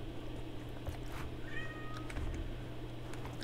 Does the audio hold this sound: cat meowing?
yes